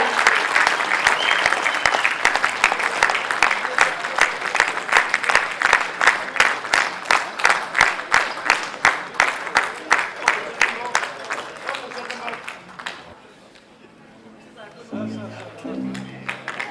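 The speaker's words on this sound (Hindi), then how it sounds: "जोरदार तालियां for the incoming chairman, Mr. Nitin Khandelwal" Loud, sustained applause for the incoming chairman of a gems and jewellery trade federation, with rhythmic close clapping over crowd chatter that fades out, followed by a brief voice at the end.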